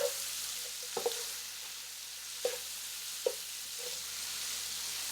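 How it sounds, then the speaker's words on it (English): Brisket chili meat and vegetables are stirred in a pot over a soft, steady sizzle, with a few scattered scraping clacks of the spoon against the pot. Quiet and close, with no talking. "now let's mix it all together"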